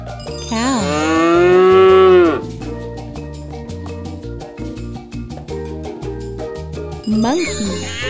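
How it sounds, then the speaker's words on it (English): A cow moos loudly in a children's animal game, one long rising and falling bellow, then chiming jingles and game tones, with the start of another moo at the end. "Cow."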